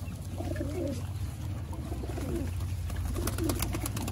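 Breeder pigeons kept for sale in Sialkot coo steadily in a low murmuring chorus, a continuous dense background of overlapping calls with no voices.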